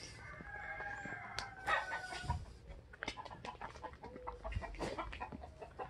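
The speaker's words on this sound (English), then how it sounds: "Chicken. Oh, chickens." Chickens in a backyard in Chaparia, Mexico call out with clucks and what sounds like rooster crowing, repeated bursts rising over steady outdoor background noise.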